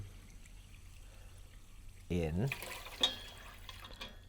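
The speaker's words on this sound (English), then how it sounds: "So we're gonna add the soda water" Soda water poured into a bowl of bourbon holiday punch, a short fizzy splash of liquid lasting about half a second, followed by a faint clink, with a person talking.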